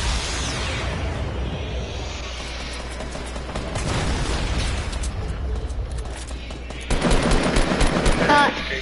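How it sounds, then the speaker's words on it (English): Fortnite combat with RPG rocket launches and exploding rounds, delivered as dense bursts of rapid weapon fire and booms that grow louder toward the end over game background noise. "He got an RPG shooting rockets."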